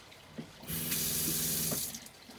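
Water gushes from a camper van tap fed by an electric pump from a 28-gallon fresh water tank, a steady close splashing stream lasting about a second with a faint pump hum underneath, then cutting off.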